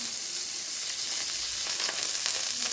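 Butter melting on a hot tawa for a street-style roast bread sandwich, giving a steady, close, bright sizzle that fills the whole moment without any voices.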